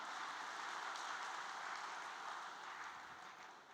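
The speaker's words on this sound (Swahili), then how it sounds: "Na katika hili naombeni tujipigie makofi tena mengi sana." Audience applause at a Tanzanian regional commissioner's public address in Dar es Salaam: steady, even clapping from a crowd, fairly faint and distant, holding throughout and tapering slightly at the end.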